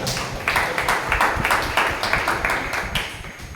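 A church congregation at a fasting prayer day claps together in the name of Jesus, a loose run of steady rhythmic claps for several seconds at moderate distance.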